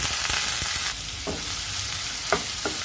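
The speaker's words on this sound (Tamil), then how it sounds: "கடுகு பொரிஞ்சதுக்கப்புறம் இதில் ஒரு காய்ந்த மிளகாய், ஒரு பெரிய வெங்காயம் சேர்த்துக்கிறேன்" Mustard seeds, a dried chilli and a large onion frying in hot oil for poha tomato upma, a loud, close, continuous sizzle with occasional sharp crackles and stirring scrapes.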